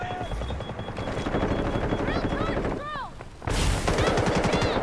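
Rapid automatic gunfire in the Delta Force video game rattles close and loud, briefly pausing before a heavier burst resumes, with a voice talking over it.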